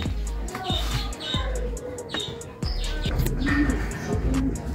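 Baby birds (chicks) chirping in a cluster of short, high tweets and calls, fairly close, with a person speaking intermittently over them.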